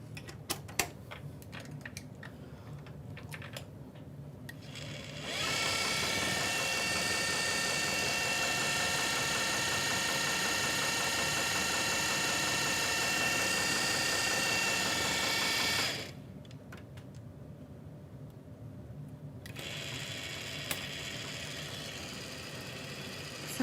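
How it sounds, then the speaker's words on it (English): A home sewing machine winds bobbins, starting with a steady motor whir that runs for about ten seconds and then stops, with quiet clicks and room noise before and after. "I've got to get some bobbins wound"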